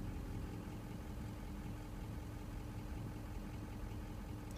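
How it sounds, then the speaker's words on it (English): A Ford 6.0 Powerstroke diesel idles during a VGT learn procedure, a faint steady low rumble with an even, unchanging tone and no voices. "you can actually hear the difference in the sound of the engine"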